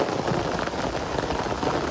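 Steady, heavy rain falls outdoors at night during a crab-catching outing, a close, continuous patter with no talking.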